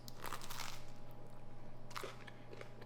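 A few crisp crunching bites of homemade pizza, close up, with a faint steady hum in the background and no talking.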